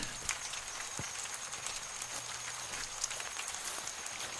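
Rain falls through forest trees as a soft, steady patter of drops, faint and fairly distant, with a couple of brief louder taps.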